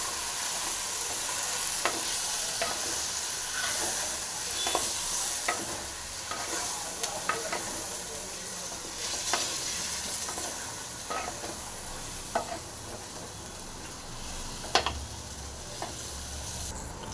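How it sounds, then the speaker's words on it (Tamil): Raw mango pieces with salt and chilli powder being stirred in a pan, a steady sizzle with repeated scraping strokes of the spoon at irregular intervals, close and fairly quiet, without speech. "அப்படியே களி கொடுங்க அப்படியே நல்லா வேகட்டும்"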